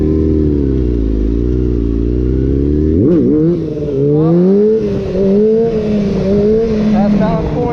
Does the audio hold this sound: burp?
no